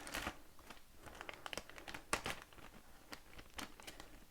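Plastic bag crinkling and rustling as a Trixbrix r40/r56 train track crossing piece is pulled out of its packaging, close and continuous with sharp crackles, no talk.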